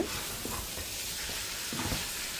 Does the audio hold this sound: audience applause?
no